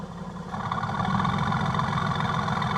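A Mercedes-AMG GT S idles with a deep, steady exhaust rumble, rising slightly in level after the first half second and then holding constant, with no voices.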